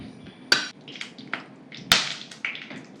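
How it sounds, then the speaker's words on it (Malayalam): Mustard seeds in hot oil burst with sharp, loud pops, two standing out clearly, amid softer intermittent crackles and spatters. "കടുക് പൊട്ടുന്നുണ്ട്."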